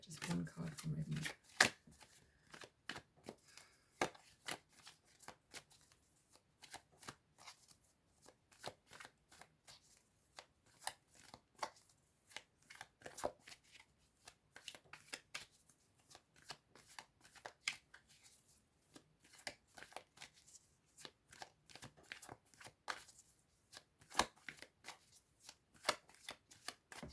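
Tarot cards are shuffled for a long stretch in quick, dense riffling taps at close range, fairly faint and continuous, before a single card is drawn.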